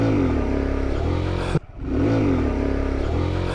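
A Kawasaki Z125 Pro motorcycle engine revs steadily and close during a wheelie attempt. The drone cuts out briefly midway, then picks back up and rises again.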